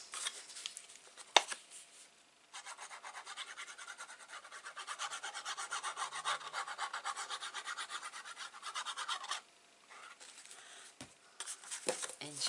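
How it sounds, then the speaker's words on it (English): Glued paper being burnished down by hand around a small recipe box, a steady close rubbing rasp for several seconds, framed by brief taps and quiet handling noises. "Right, just burnish all the way around."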